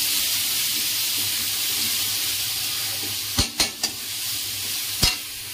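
A spoon stirs spice masala in a pan of hot oil, with a faint steady sizzle and a few sharp knocks of the spoon against the pan near the end.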